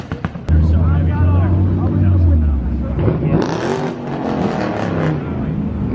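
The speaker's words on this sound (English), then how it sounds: "That guy over there is still revving." A loud car engine roars close by at a 4am street racing scene, revving up and holding high before easing off and climbing again, with people talking over it.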